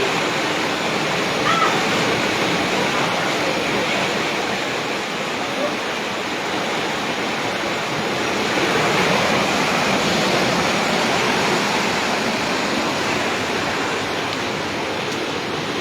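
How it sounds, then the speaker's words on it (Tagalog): Typhoon floodwater roars continuously, a dense, steady torrent close by with no pauses, surging past. "Tingnan yung tubig laki na ng tubig."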